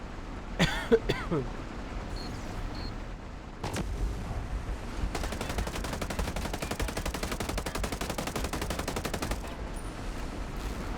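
Gunfire in Ghost Recon Breakpoint during a Project Titan raid: a few separate shots early, then a long rapid automatic burst of fire, fairly loud with busy game noise behind.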